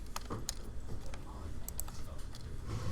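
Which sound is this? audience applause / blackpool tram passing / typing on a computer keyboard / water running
typing on a computer keyboard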